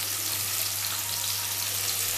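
Chopped onions and potatoes frying in a pan for a cauliflower and prawn dish, a loud, dense, continuous sizzle heard up close with no talking.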